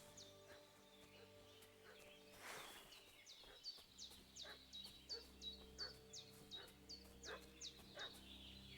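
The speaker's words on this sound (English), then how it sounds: "What's that dog making such a fuss about?" A dog in the video game Kingdom Come Deliverance 2 barks in a rapid, even series of sharp yips, fairly close and loud, rising out of quiet ambient hum after a brief rustle.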